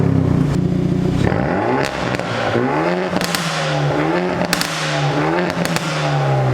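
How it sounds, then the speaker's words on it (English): A Hyundai i30 N Performance with its factory exhaust revs repeatedly, rising and falling in pitch with crackles and pops from the exhaust, loud and nearby. "I mean, for a factory exhaust, that don't sound too bad."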